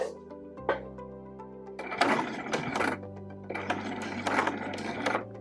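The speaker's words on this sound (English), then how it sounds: "make sure you put your machine back on the straight stitch. And then just stitch straight down." A sewing machine runs a straight stitch along fabric for a giant scrunchie, with a soft start, then two loud sustained bursts of motor whirr and needle clatter separated by a short pause, close by with no talk.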